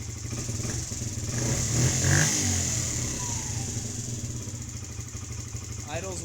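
A small Kawasaki KFX50 quad engine runs steadily with a mild swell in revs, a buzzing mid-pitched idle heard up close without speech.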